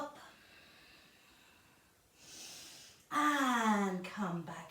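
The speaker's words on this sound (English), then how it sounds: "And one more time, big deep breath in" A big, deep breath drawn in during a floor stretching exercise: a soft, airy inhale lasting under a second, followed by a voice speaking up close.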